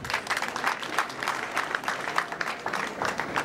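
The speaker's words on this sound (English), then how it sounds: "Again, another hand clap." An audience claps at a school of health science ceremony in Namataba, a steady, moderately distant round of applause from a gathered crowd that carries evenly throughout.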